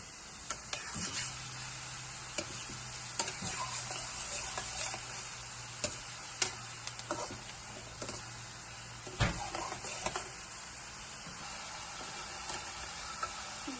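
Fenugreek-leaf badi dough balls frying in hot oil, a steady close sizzle with scattered ticks and crackles throughout and no one speaking.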